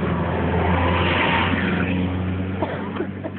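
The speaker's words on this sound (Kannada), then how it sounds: "ಗಾಡಿ ಬರ್ತಾ ಇದೆ ಗಾಡಿ ಬಂತು" A vehicle engine grows louder as it approaches, peaks, then fades as it passes by, a mid-pitched motor rumble heard from the roadside without talk.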